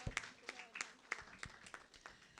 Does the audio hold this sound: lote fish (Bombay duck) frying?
no